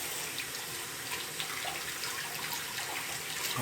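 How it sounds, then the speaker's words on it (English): Tap water runs steadily into a sink while hands are washed beneath it. The gushing hiss is close, constant and fairly loud, with light splashing over the top and no talking. "I want to wash my hands"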